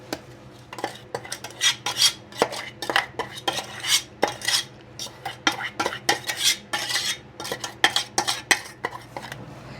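Flour roasting in ghee in a pan for multigrain panjiri, stirred with a steady run of quick metal scrapes and clinks, close and fairly loud, with no talking.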